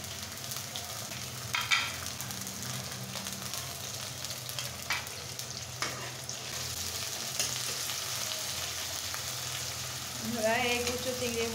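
Small shrimp fry in oil with chopped onion and green chili: a continuous close sizzle, with a few scraping stirs and light clatters of the pan. A voice speaks briefly near the end.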